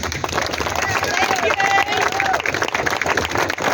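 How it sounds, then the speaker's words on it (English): A crowd at a Vote No rally claps and cheers, dense applause and scattered shouts filling the space loudly and continuously, with a murmur of voices mixed in. "Give yourselves a round of applause."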